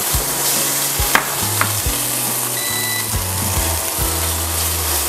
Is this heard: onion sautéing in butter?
yes